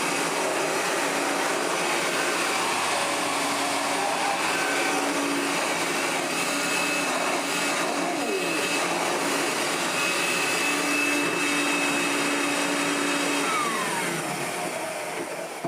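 A 1985 Hotpoint Super 3650 upright vacuum cleaner runs with a steady, loud motor whine and airflow hiss, unbroken from start to finish with no talking.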